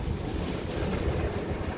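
Rough sea waves surge and crash at a seaside fishing spot in Songjeong, a steady close wash of surf mixed with gusting wind buffeting the microphone, with no voices.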